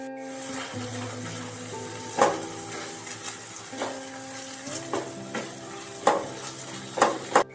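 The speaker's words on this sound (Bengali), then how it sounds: "আদা বাটা দিয়ে ভালোভাবে একটু নাড়িয়ে চাড়িয়ে নিতে হবে।" Ginger paste and spices sizzle and fry in a pan for a pumpkin chutney, with steady frying hiss and repeated scraping clinks of a spoon stirring against the pan, close and alone with no talk.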